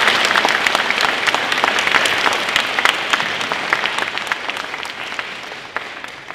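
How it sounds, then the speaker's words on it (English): An audience in a gym at a live event gives a big round of applause, dense and loud, many hands clapping steadily from start to finish without any break or speech on top. "So big round of applause for them."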